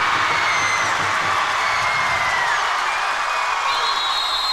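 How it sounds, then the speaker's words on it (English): Basketball crowd at Rehoboth Christian roaring steadily through a tense free throw, a dense, continuous wash of cheering and whoops with scattered whistles, loud and sustained from start to finish. "The crowd has come to life."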